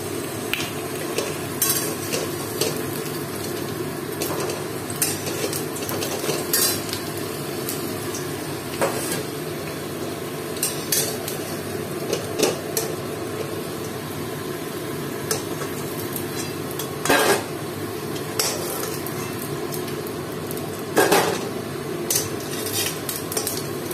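Fried potatoes are lifted out of a pan of hot oil, with steady sizzling beneath repeated metallic scrapes and clinks of a spoon against the pan.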